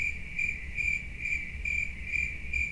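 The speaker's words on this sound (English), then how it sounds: "I was about to play cricket noises." A cricket noise sound effect plays during a live stream: a loud, steady high chirping trill that pulses in an even rhythm over a low hiss, with no talk.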